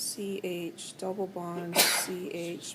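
One abrupt, sharp sneeze bursts out near the middle of a chemistry lecture, loud and close, with a voice continuing right before and after it.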